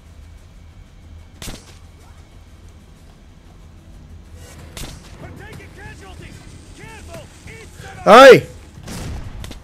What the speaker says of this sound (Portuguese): Escutei só uma bomba aqui.